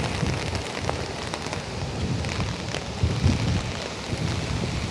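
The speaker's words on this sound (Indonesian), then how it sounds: "Hari ini sih hujan dari pagi" Steady, dense rainfall pours during a day-long downpour that flooded Fukui, Japan, a loud continuous hiss of drops hitting surfaces with a few heavier splashes and no talking.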